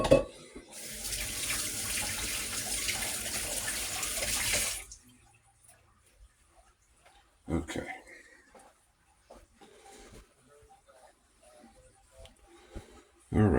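A kitchen tap runs hard for a few seconds as hands are rinsed, then shuts off, leaving quiet with a few brief knocks and faint handling noises.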